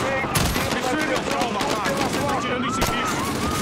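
Rapid gunfire in Call of Duty: Modern Warfare (2019), dense overlapping bursts of automatic shots, loud and close, continuing throughout with a voice talking over it.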